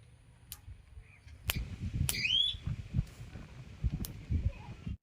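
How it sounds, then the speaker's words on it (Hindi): Farm electric fence energizer (jhatka machine) being tested, sounding sharp electronic beeps and clicks at irregular intervals over a low background rumble, with one brief chirping warble partway through. "और अब आप इसकी बजर की आवाज़ सुनिए, और एक करंट भी एकदम ज़ोरदार लगा रही है।"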